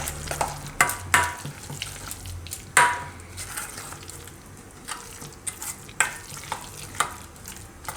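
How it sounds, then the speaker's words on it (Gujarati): Coriander, green chillies and chilli flakes being stirred together in a pan, with soft scraping strokes and a light sizzle throughout and a few sharper clinks of the spoon against the pan. "લીલા ધાણા, લીલા મરચાં ને આપણે ચીલી ફ્લેક્સ. તો આ બધું આપણે મિક્સ કરી લઈએ."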